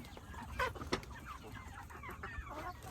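Small-scale farm poultry fed organic feed cluck and chatter in a low, steady murmur, with a couple of sharper squawks standing out early on, all quite faint and distant.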